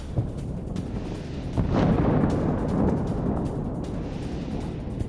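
A deep explosion rumbles through news footage of a Hezbollah missile strike, a long low boom and roar swelling and then sustaining with crackling, distant and heavy, with no talking.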